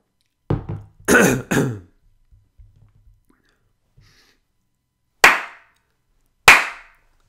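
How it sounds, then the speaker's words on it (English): Several rough throat-clearing bursts close to the mic, a cluster at the start, then two more sharp ones after a quiet gap. "I just need to clear my throat."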